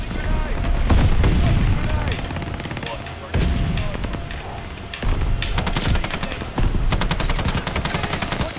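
Rapid bursts of automatic gunfire from several enemies shooting at once in a first-person shooter, loud and dense with booming shots and continuous rattling volleys throughout.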